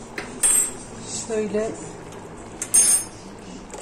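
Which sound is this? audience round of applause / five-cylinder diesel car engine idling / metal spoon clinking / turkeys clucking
metal spoon clinking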